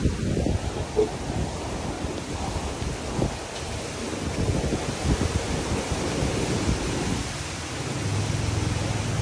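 Strong wind blows hard outdoors on a farm where pigs are kept, a continuous rushing roar that gusts and buffets close by with no pause.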